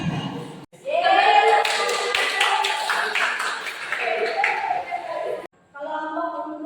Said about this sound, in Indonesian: Matius, beri tepuk tangan untuk kelompok tadi.